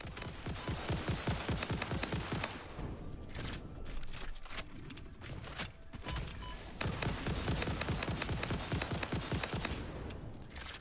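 Rapid automatic gunfire from a Satisfactory video game battle, loud and dense bursts of shots with a brief lull midway before the firing resumes just as hard.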